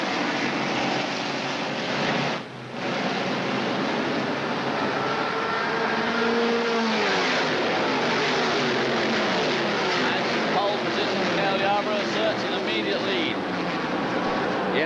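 Stock cars start the 1980 World 600, a dense, steady engine roar from a packed field with rising pitch sweeps as cars pass. A commentator talks over it.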